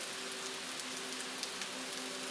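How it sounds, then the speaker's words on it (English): Steady rain patters on a surface with an even hiss, heard alone beneath soft sustained droning tones. "This rain cleansed me, body and soul."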